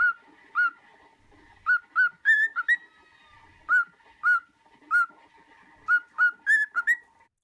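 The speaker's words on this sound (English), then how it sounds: "There are singing birds such as this one." A bird sings a series of clear, whistled notes in short repeated phrases, close and distinct against near silence.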